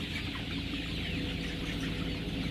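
Dense, continuous clucking from a crowd of chickens in a traditional thatch-roofed coop, like a busy poultry house with a steady background hum, no single bird standing out.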